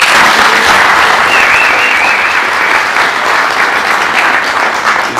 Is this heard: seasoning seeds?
no